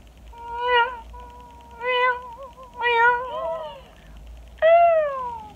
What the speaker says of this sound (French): Si j'entends un chat qui me fait miaou